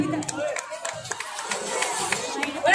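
An audience claps for a guest at a Janmashtami magic show in Nehru Vihar. The applause is scattered and moderate, with a voice talking over it throughout.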